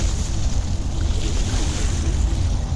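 A Segway Ninebot Max G30P electric scooter is ridden at top speed through water, giving a loud, steady rush of splashing spray mixed with wind noise on the microphone. There is no talking.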